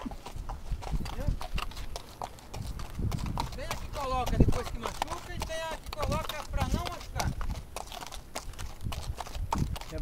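Horse hooves clip-clop in a steady walking rhythm throughout a horse ride, close and clear, while people talk over them.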